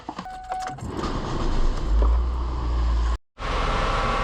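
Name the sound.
Ford Focus engine starting and running after oil change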